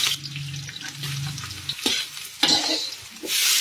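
Pakbet vegetables stirred into mung beans in a pan, with a crackling sizzle and scraping stir strokes, a low hum early on and louder frying bursts toward the end.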